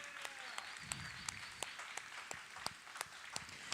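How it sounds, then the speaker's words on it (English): Audience applause for a cooking demonstration, a steady wash of many hands clapping with a few sharp, louder claps standing out, sustained throughout at moderate distance. "Everybody, let's give her a big round of applause."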